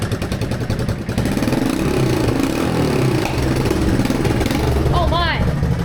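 A three-wheeler engine, restarted after sitting eight years with an exhaust leak and a mouse nest plugging it, idles steadily with a rough, sputtering chug nearby, while a person talks over it throughout.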